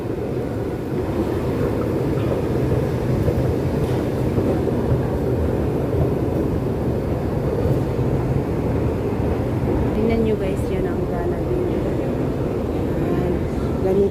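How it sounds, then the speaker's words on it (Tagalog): A train passes at Bukit Panjang station in Singapore with a steady, continuous low rumble that fills the whole stretch and stays even in loudness, with a faint murmur of voices underneath. "marinig mo na guys, may train na"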